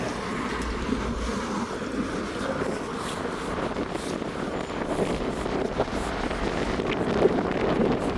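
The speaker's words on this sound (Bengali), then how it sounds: "প্রচুর বাতাস" Strong wind outdoors in the United Kingdom buffets the microphone in a continuous rumbling roar, gusting louder toward the end, with no talk.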